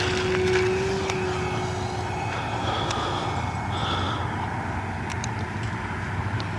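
A small stick-and-tissue Gillows Stearman biplane, a radio-controlled model modified for flying, drones with a steady propeller-engine buzz over a broad outdoor hiss at an airfield in Arvin, California, holding at a fairly even level throughout.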